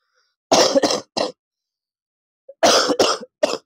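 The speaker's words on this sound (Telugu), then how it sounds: "కోల్డ్ ఫీవర్ తగ్గుతుంది కానీ దగ్గు అయితే తగ్గట్లేదు." A person with a lingering cough after a cold and fever coughs and clears their throat up close. There are two loud clusters of three harsh bursts each, separated by silence.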